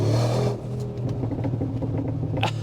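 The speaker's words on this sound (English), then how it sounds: "in the Sport Plus, with the exhaust valve being opened here, it's really loud with the pops and bangs" Brabus G-Class G63-based 700 HP in Sport Plus with the exhaust valve open, a loud engine roar that drops off, then a burble of sharp pops and crackles from the exhaust.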